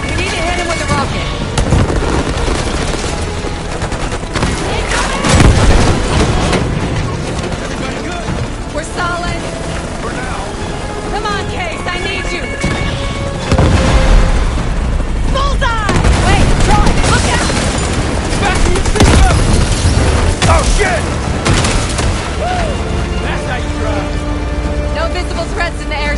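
Rocket explosions during a battle in a Call of Duty campaign: loud booming blasts around the 5 and 14 second marks, set in dense combat noise with gunfire, music and voices talking throughout.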